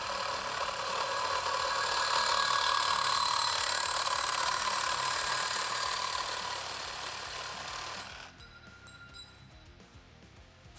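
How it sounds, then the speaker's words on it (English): A Milwaukee Sawzall reciprocating saw cuts through stainless steel pipe with a loud, steady buzzing rasp lasting about eight seconds, then drops away to a quieter motor whine as the cut finishes. "So we're going to cut this piece of stainless steel pipe now."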